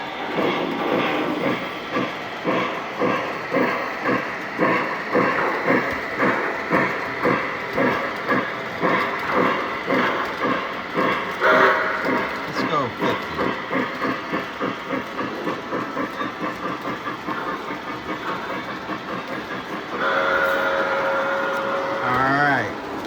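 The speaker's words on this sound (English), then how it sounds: "now we have 1, 2, 3, 4, 5 trains going." Several model train locomotives running together on a Christmas layout, with a steady clickety-clack rhythm of wheels over track joints, a soft hiss and a whistle-like tone near the end, fairly close, with faint talk in places.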